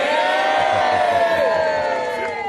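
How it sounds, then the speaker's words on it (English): A St Helens crowd cheers for Jeremy on a final canvassing day, a sustained mass of whoops and shouts held loud and close, with voices ringing out over the din. "Before we go, I want St Helens to give Jeremy a big cheer and all the rest of the gang."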